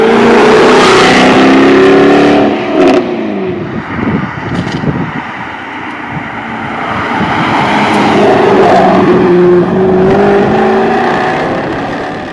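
Jaguar F-Type R with a supercharged V8 roars loudly under way, engine note rising and falling as it accelerates, with a steady supercharger whine running through the sustained drone and no voices over it.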